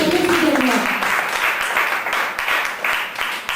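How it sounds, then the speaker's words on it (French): Church congregation applauding during a worship service, with dense clapping that fades slightly over a few seconds, preceded by a brief voice. "Acclamons le Seigneur. Applaudiert den Herrn."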